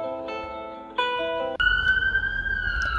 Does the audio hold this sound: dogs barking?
no